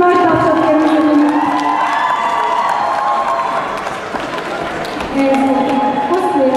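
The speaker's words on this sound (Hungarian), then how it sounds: "Nagy tapsot kérünk!" A crowd at a cosplay award ceremony during an anime Christmas convention claps and cheers steadily throughout, with voices mixed into the continuous roar of the audience.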